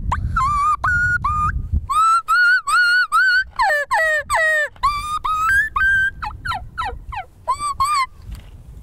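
A wild turkey kee-kee run imitated on a diaphragm call gives a series of sharp, high whistled yelps in quick clusters, loud and close, with a low rumble of background noise.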